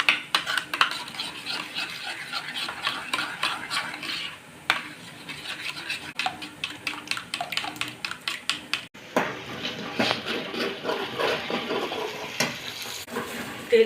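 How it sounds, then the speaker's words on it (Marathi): Masala sautéing in oil in a pan for matar paneer, a soft crackling sizzle with frequent scraping and clinking strokes of a spoon, briefly pausing before resuming with busier stirring. "तेल सुटेपर्यंत मसाला परतून घेऊया"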